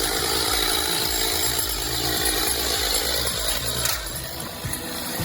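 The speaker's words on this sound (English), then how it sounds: "Chainsaws and ladders are clearly a disastrous combination." A chainsaw cuts into a tree, its engine running in a continuous high buzz that shifts slightly in pitch near the end, fairly close and without talk.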